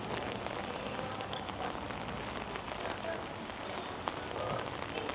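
Steady rain falls across a large park beside a fortress and museum complex in Khujand, Tajikistan, a dense, even hiss of drops on surfaces lasting throughout with no pauses.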